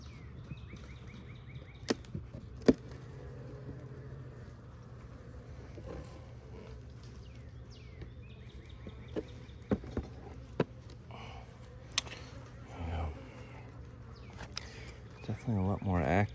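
Honey bees buzzing around an open beehive during a February inspection, a steady low drone with scattered insects flying close past, under intermittent voices.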